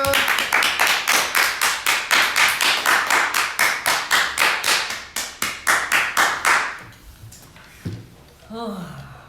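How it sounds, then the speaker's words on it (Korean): A small group of people clap their hands together in quick, steady rhythm for several seconds, loud and close, before the clapping stops and a voice begins speaking. "자, 박수!"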